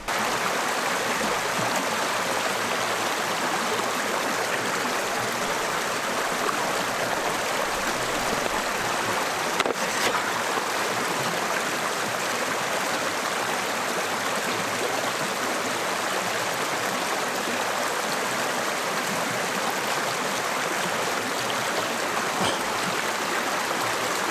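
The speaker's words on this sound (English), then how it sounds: "I've got a stream beside me, so I'm going to take water out of the stream" Steady rushing water of a flowing stream, close and continuous, a constant broad wash of sound with no voices.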